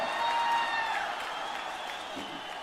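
An audience at the party's first national convention applauds to welcome the party chairman and Prime Minister; the clapping is dense but fairly soft and distant, tapering off slightly.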